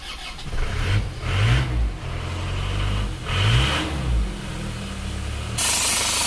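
An Isuzu Panther engine with a clogged PCV valve cranks a few times, catches, and settles into a steady idle with occasional revs, loud and close.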